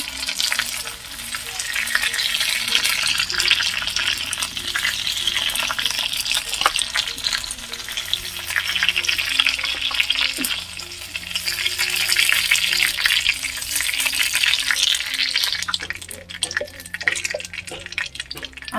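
Meat for a cabbage curry lightly fried in a pan and turned, with a steady close sizzle and intermittent stirring scrapes throughout.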